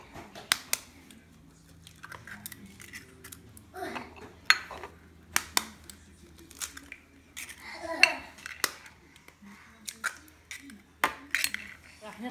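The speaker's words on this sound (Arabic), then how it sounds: "نخفق البيض." Eggs being beaten by hand in a bowl for a cocoa cake, giving a string of sharp, uneven clinks and taps of utensil against the bowl over a low steady hum.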